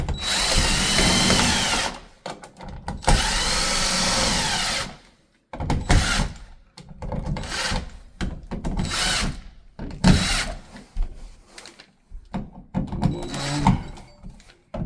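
A power drill drives screws into a 4-wire 30 amp dryer outlet in repeated whirring bursts, some long and some short, separated by brief silences, loud and close.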